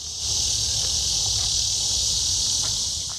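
A steady, high-pitched electric buzz of summer cicadas in Kansas drones on continuously, with faint rustling and a few soft clicks underneath.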